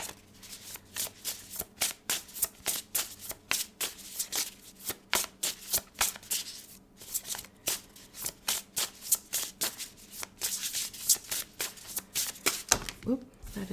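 Oracle cards being shuffled for a tarot reading, a long run of quick riffling bursts and soft slaps, close and clear with a brief pause midway.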